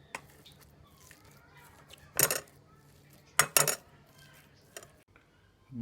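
Boiled potatoes mashed with a fork in a bowl: a few sharp metallic clinks and scrapes against the dish, spaced irregularly over quiet, soft background.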